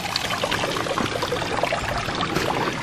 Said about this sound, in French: Oh, la cascade.